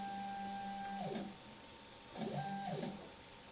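An OCA30 instrument's motorized sample stage and needles move automatically, giving steady electric motor whines with pitch glides as the motion starts and stops, twice in a row, close and continuous.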